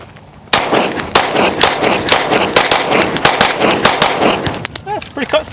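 A P320 pistol fitted in an SMC Bravo chassis fires a quick string of about a dozen loud, close gunshots at a brisk, slightly uneven pace. Voices murmur faintly between the shots.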